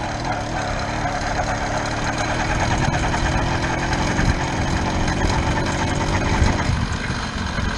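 A motorized bicycle's small engine runs steadily while the rider pedals and releases the clutch, a continuous buzzing, slightly knocking mid-pitched drone that stays close and loud throughout with no talk.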